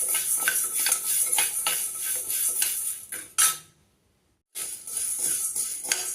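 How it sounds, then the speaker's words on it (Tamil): Already roasted green gram is heated in a pan, the lentils rattling and scraping against the metal in a steady, close, bright clatter that halts abruptly for about a second before resuming. "பாசிப்பயிர் வந்து வறுத்து தான் வச்சுருக்கேன், கொஞ்சம் சூடு பண்ணிக்கலாம்."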